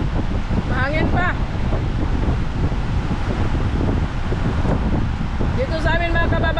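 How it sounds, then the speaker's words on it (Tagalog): Steady wind rushes against the microphone on a seashore, a constant low roar with surf underneath, and voices speak briefly near the start and again toward the end. "Mahangin pa."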